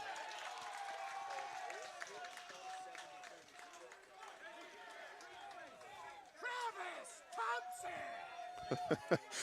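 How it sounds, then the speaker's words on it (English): Fans cheer and clap along the third base line after an RBI double at an amateur baseball state tournament game, a modest crowd sound under steady announcer talk that rises in bursts near the end. "Travis Thompson's got his own cheering section up the third base line here to our left"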